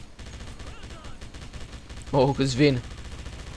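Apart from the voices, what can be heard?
machine gun fire in video game Wolfenstein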